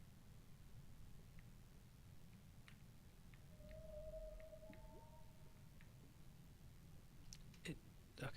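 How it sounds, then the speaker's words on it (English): Whale-like ambient calls in the Minecraft ocean: a long tonal moan drifts through a low rumbling underwater drone, with faint scattered clicks and a brief louder rustle near the end. "the ocean is making whale sounds, but I know that there's no whales around here"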